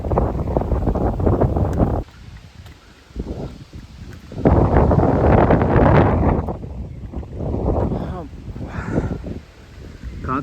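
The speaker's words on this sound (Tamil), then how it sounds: "காற்று பயங்கரமாக அடிக்குது." Strong wind buffets the microphone at Chitradurga hill fort, a loud, steady roar of rumbling gusts that swells and eases, with someone talking underneath.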